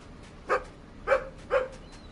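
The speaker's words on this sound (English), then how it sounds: "Wait, I hear a dog." A dog barks three times at an even pace in the video game Bilkins' Folly, each bark short and moderately distant against a quiet background.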